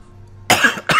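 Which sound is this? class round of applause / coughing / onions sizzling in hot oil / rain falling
coughing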